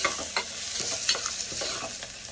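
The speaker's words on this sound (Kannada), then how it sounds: "ಈರುಳ್ಳಿ ಫುಲ್ಲು ರೆಡ್ಡಿಶ್ ಆಗಬೇಕು ಅಂದರೆ ಗೋಲ್ಡ್ ಕಲರ್ ಥರ ಬರುತ್ತೆ ಆಗೋವರೆಗೂ ಫ್ರೈ ಮಾಡ್ಕೊಬೇಕು" Onions fry in a pan toward golden brown, a bright, continuous sizzle close by with quick spoon-stirring scrapes on top, no talk over it.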